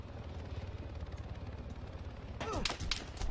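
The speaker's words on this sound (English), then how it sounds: "being distracted by that helicopter flying over was enough to get me killed there" Helicopter passing overhead in Arma 3 King of the Hill, a steady low rotor thumping throughout, joined near the end by sharp bursts of distant gunfire.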